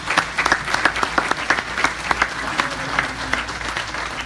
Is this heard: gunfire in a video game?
no